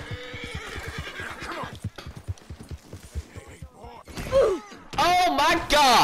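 Horses in the Red Dead Redemption 2 video game whinny and neigh loudly, with clip-clop hoofbeats and game sounds, while someone talks over the first part.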